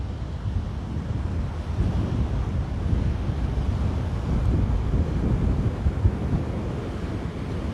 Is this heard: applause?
no